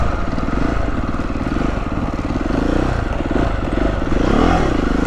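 A Beta 390RR motorcycle engine drones loudly and steadily up close, revving and rising in pitch as the bike pulls off a road onto a green-lane trail, with wind buffeting throughout.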